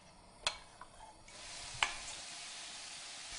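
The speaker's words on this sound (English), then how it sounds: "fry the lamb for 3 to 4 minutes just to seal the outside" Marinated lamb seals in hot oil in a pan, giving a quiet, steady sizzle that thickens partway through, with a couple of brief clinks or stirring knocks and no talk.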